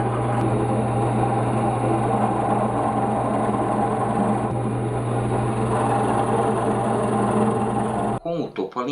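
A half-inch bit drills through-holes in a piece of wood, giving a steady, loud motor whine with a constant hum that runs unbroken for about eight seconds and then cuts off abruptly near the end.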